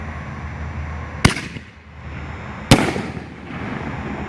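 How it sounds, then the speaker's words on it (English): A Hog Wild Venom artillery canister shell with a green brocade effect bursts twice, about a second and a half apart. Each is a sharp, loud report followed by a short fading crackle. "got the Venom artillery shell by Hog Wild,"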